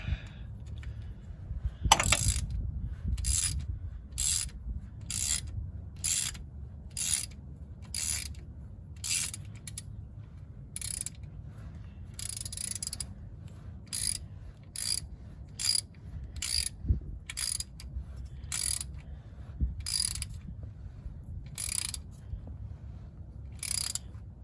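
Transmission pan bolts on a 2012-2016 Chevy Impala being snugged with a ratchet: a long run of quick, evenly spaced clicking bursts, close and fairly crisp, repeating steadily with brief pauses, no talking.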